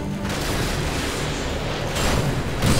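AGM missile strikes in Modern Warfare 2 land as a dense, loud, continuous rumble of explosions, surging louder toward the end in rolling booms.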